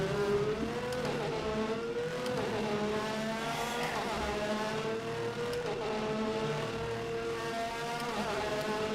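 Engine of a 1988-season Formula 1 car in rFactor 2 at San Marino, a loud sustained whine rising and falling through repeated upshifts and downshifts as the car laps, alone with no talking.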